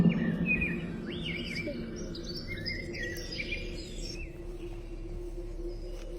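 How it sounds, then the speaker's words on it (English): Recorded birdsong and nature ambience play from hidden speakers: scattered chirps and whistling calls over a steady low hum and insect-like background, moderately quiet and continuous. "all the bird and nature sounds were on repeat."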